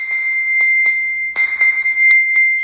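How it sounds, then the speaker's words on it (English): A phone rings after the find device function is triggered from an Amazfit Band 5 fitness band, giving a loud, steady electronic tone broken by sharp clicks and taps, with no talking. "So you can see it's making my phone ring."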